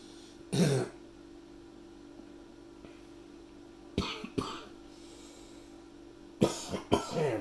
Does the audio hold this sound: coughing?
yes